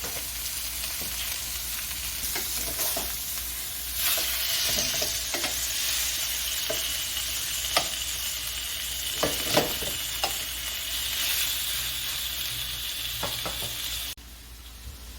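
Chicken sizzles loudly in a hot pan, a constant frying hiss broken by occasional clacks and scrapes of a utensil moving it around.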